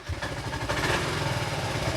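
A motorcycle engine running close by, a rough steady mechanical rumble with a slight rise in revs partway through, loud and continuous.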